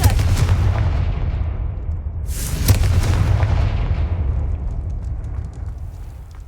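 A Confringo fire spell bursts in the Hogwarts Legacy video game, a loud continuous rumbling blast with a sharp boom partway through, trailing off into a dull roar.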